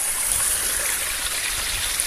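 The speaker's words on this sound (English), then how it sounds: "It's become a stream." Water of a stream running along a hiking path on the West Highland Way, a steady close rushing and trickling flow with no break, heard alone.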